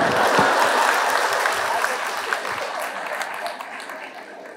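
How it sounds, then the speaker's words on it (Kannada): Audience applause at an event with Kannada film star Golden Star Ganesh, dense sustained clapping from a large crowd that fades slightly over a few seconds. "ಜೋರಾಗಿ ಚಪ್ಪಾಳೆ"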